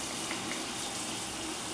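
Water runs steadily from a tap during face washing, a continuous close rushing gush with no speech.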